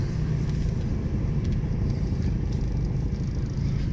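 Close, steady low rumble of a used car's engine running, an even droning hum with no speech and no clear revving.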